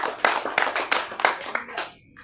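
A small audience claps hands at a traditional advice-giving gathering, a few loose, uneven claps rising and falling close by before trailing off into silence.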